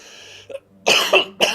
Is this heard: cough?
yes